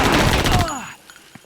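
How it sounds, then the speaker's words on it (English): M249 machine gun in the video game Hellforces firing a short loud burst of rapid shots, then cutting off into a decaying ringing tail and near silence. "I won't be using this M249 too much because there is a delay between me pressing the button and it firing."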